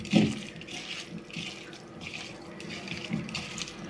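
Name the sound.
tamarind water being poured into a dish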